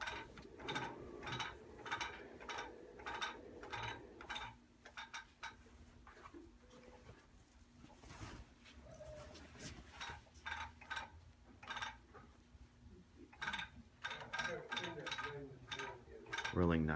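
A Pearl quilting frame's take-up rail is rolled during loading, giving rapid repeated ratcheting clicks in bursts with brief pauses, close and fairly loud, with no voices.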